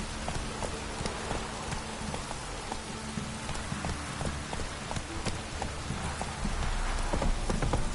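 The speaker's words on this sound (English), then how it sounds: "This downpour's a bastard," Steady, dense video game rainfall in a heavy downpour patters continuously on surfaces, with scattered sharper drop hits throughout.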